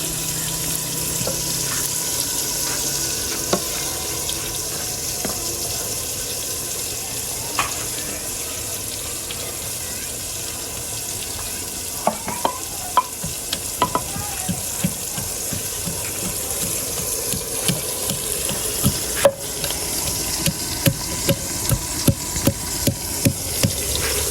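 Spiced village-style curry with lemon slices, ginger and garlic fries in a pan while being stirred: a low hiss under sharp scraping clicks that come faster and denser toward the end.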